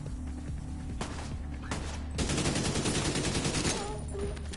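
Suppressing gunfire in The Division 2 plays as sustained automatic bursts over a dense game soundscape, with a few separate shots before a longer continuous volley.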